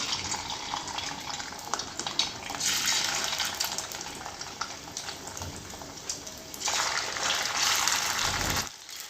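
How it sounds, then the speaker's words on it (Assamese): Chicken pieces fry in olive oil in a kadai, a hissing sizzle that swells into two loud bursts as the pieces hit the hot oil and then settles back to a quieter crackle. "এতিয়া মই চিকেনখিনি অলপকে দি ফ্ৰাই কৰি লম"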